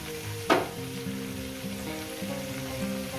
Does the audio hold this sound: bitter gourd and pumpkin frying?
yes